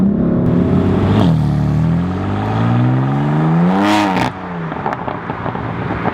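A BMW M4 Competition with a dual-clutch paddle-shift gearbox drops through gears, engine note swooping up and down in loud revving blips before settling, close and with no talk.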